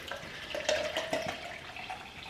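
Water poured into a protein shaker, a soft steady trickling pour with faint splashing, quiet and alone.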